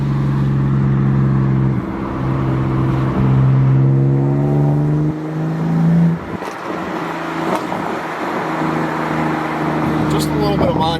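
A car engine revs with the throttle modulated, its pitch climbing and falling in steady harmonic sweeps, loud and close, while a person talks over it.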